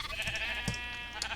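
Short bleats from sheep in Minecraft at a Halloween fair, a couple of loud calls rising over a busy layered game background.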